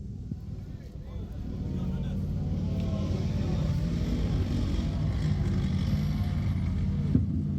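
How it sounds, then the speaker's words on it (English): Next generation Hunter armored fighting vehicle maneuvering at an army firepower demonstration, its engine a steady low drone that builds and holds as it moves, heard at some distance under an announcer's amplified voice. "In front of you now is the next generation Hunter armored fighting vehicle. Watch as it demonstrates the Hunter's excellent maneuverability."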